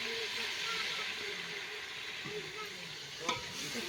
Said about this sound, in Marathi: तेल काढल्यामुळे काढ काढ काढ काढ आवाज येतो